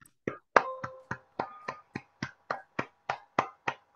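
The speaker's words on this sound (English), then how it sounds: "let's give both of our features a huge round of applause" About a dozen crisp finger snaps come at a steady, even pace, close and clear against near silence, in appreciation of featured readers at a poetry reading.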